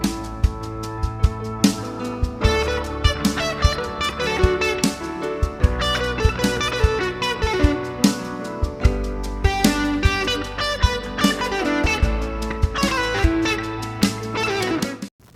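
Guitar rhythms played with added pitches, layered in short takes, ringing steadily as dense, accented chords and notes throughout, loud and alone with no talk.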